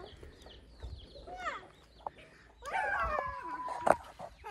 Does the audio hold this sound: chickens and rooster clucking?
yes